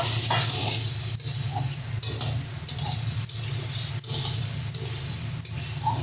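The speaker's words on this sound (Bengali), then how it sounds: "ভালো করে মশলাটাকে কষিয়ে নিচ্ছি যতক্ষণ না টমেটো হালকা একটু নরম হয়ে আসে।" Spice paste and tomato fry in a pan with a steady sizzle, broken by a stirring scrape roughly every second. The sound is close and fairly loud, with no talking.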